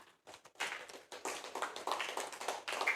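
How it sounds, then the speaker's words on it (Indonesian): Students in a classroom break into applause for a group after its presentation, with scattered claps at first that swell into dense, fairly close clapping that keeps going to the end. "Tepuk tangan untuk kelompok 2."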